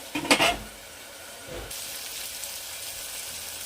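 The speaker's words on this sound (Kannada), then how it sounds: "ಇದನ್ನು ಸ್ವಲ್ಪ ಚೆನ್ನಾಗಿ ಫ್ರೈ ಆಗಲಿ" Tomato frying in a pan for a sprouted horse gram sambar gives a steady, soft sizzle after a brief clatter of utensils at the start.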